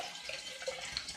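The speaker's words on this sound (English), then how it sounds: "I'm starting with my wok of grain and sparge water." Sparge water trickles and splashes over a wok of brewing grain for an all-grain porter, a faint, steady watery pour with soft drips and no talk.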